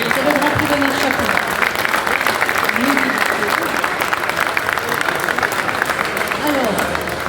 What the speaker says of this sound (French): Bravo à vous, on peut l'applaudir encore